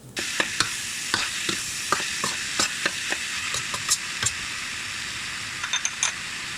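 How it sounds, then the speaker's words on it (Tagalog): Ground pork frying in a pan, stirred with a utensil that scrapes and taps repeatedly over a steady, close sizzle, with no voices. "sinunod ko naman yung pork giniling. Hinalo-halo ko lang siya"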